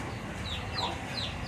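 Native chickens cluck softly and repeatedly in a yard, a few short calls standing out over a steady, dense background of farmyard noise.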